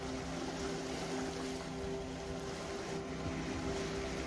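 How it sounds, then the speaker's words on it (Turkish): Strong wind and rough Black Sea waves hit the Trabzon shore in a continuous broad roar, with a steady low hum underneath. "Güçlü Poyraz nedeniyle Karadeniz'in dalgaları bu sabah sahile daha sert vuruyor."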